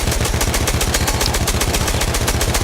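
Rapid automatic fire from a Perino Model 1908 light machine gun in the Battlefield 1 video game, a steady loud burst of evenly spaced shots hammering without pause for the whole stretch.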